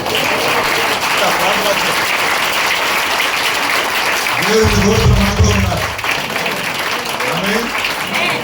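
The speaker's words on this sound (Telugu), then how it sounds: "ప్రభు మనతో ఉన్నారన్న వాళ్ళందరూ గట్టిగా చప్పట్లు కొట్టండి సార్." Church congregation at a Sunday worship service in Vijayawada clapping loudly, a dense sustained wash of applause running throughout with a voice speaking over it.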